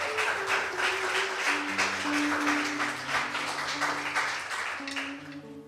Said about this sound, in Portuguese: Uma salva de palmas, Senhor Jesus, amém?